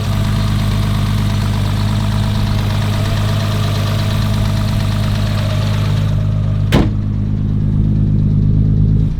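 A Nissan R32 GTR engine idles during a compression check, a loud, steady low rumble with a constant vibrating drone and one sharp click or knock near the end.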